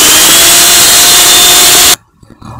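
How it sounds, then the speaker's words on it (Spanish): An electric mixer whips cream topping at high speed, a loud steady whirring drone that cuts off abruptly near the end, leaving faint clatter. "ya terminamos de batir nuestro topping"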